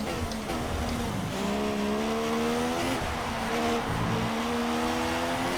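F1 2016-spec race car engines in a Russian Grand Prix video game race, a loud, continuous high-pitched whine with rising and falling harmonic sweeps as gears shift, steady and close throughout.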